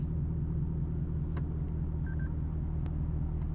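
A Lexus LC500 coupe drives along with a steady low engine and road rumble, heard from inside, with a couple of faint clicks.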